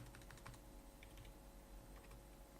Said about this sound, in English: inside parentheses data, and then type curly braces